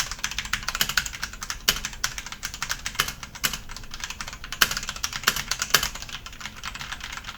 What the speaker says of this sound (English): And guys, there it is, fully with the Tecware Pudding Keycaps on there. Now let's get a sound test.